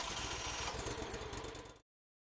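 A Proforce blower engine runs steadily and loudly at idle, a continuous broadband drone with a low throbbing pulse, cutting off abruptly after almost two seconds.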